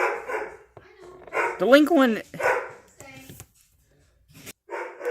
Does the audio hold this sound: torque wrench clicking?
no